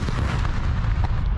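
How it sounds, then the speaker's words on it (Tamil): Gunfire from a gunfight between the Israeli army and Hamas in Gaza forms a dense, continuous roar of loud overlapping shots and booms with no pauses. "இஸ்ரேல் ராணுவத்தினருக்கும் ஹமாஸ் இயக்கத்தினருக்கும் வந்து இடையில் நடக்கக்கூடிய துப்பாக்கி சண்டையை"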